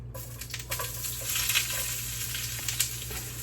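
Food sizzling steadily in hot oil in a pan on a medium-high burner, a continuous close crackle with a few sharper pops and no voices.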